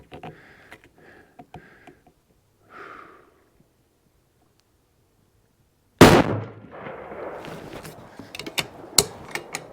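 One loud, sharp rifle shot fired at distance with an Apex Optic 3-15x44 Hunter scope, preceded by quiet clicking of the scope turrets and followed by rattling handling of the rifle.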